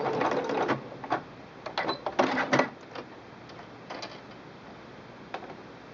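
A Singer Quantum Stylist 9960 sewing machine fitted with an overcasting foot stitches seam edges in short, rapid mechanical bursts separated by pauses, heard close and without talk.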